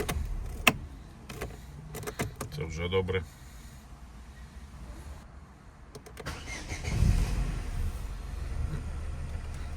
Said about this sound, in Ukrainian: Машина заводиться